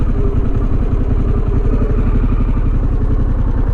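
A Harley-Davidson Pan America Special motorcycle idles at a stop, its engine a steady, loud, close rumble with an even pulsing beat and no pauses.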